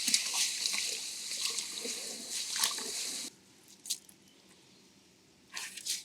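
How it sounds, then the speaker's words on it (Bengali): Paddy rice seeds are stirred by hand in a container of water, giving soft sloshing, swishing and squishing for a few seconds, then near quiet with a couple of faint splashes and a last burst of stirring. "কিছুক্ষণ এভাবে নেড়ে নেবেন সবগুলো ধান এভাবে নেড়ে দেবেন"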